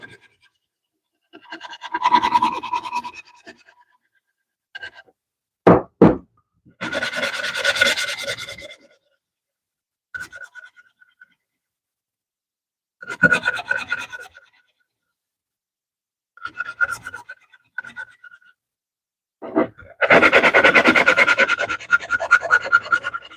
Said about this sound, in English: just do a slight sanded round over all the way around